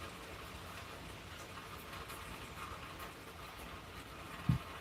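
Steady, soft rainfall patters continuously in the background, with a faint thump near the end.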